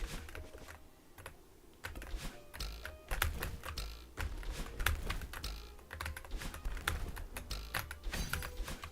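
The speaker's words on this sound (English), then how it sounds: "Feel free to give me feedback on the keyboard noises, by the way." Rapid computer keyboard typing during video game play, a steady close stream of sharp key clicks with brief pauses, no talking.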